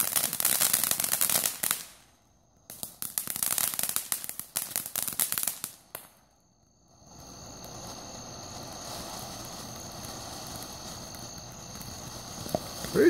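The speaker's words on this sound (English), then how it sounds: "Pretty decent firework for a small little fucker." Small Fourth of July firework bursting outdoors: two loud crackling, popping volleys close by, separated by a short gap, then a quieter stretch with a steady high whistle-like hiss and faint background noise.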